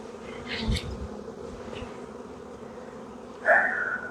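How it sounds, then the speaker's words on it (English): Honey bees from a newly installed package hum steadily while settling into a hive outdoors among blooming huckleberry brush, a continuous close buzz with a louder individual bee passing by near the end. "the bees are beginning to get acclimated and settle down a little bit"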